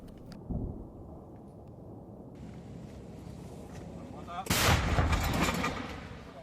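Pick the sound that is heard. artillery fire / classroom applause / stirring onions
artillery fire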